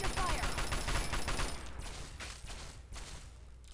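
Gunfire in the Fallout 3 video game, a rapid burst of shots in the first seconds that thins out into scattered quieter reports over a background hum.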